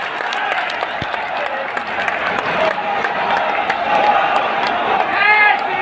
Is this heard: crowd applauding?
yes